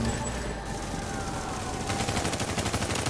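Gunfire from The Division's Dark Zone, with dense, sustained automatic bursts running throughout, getting busier toward the end.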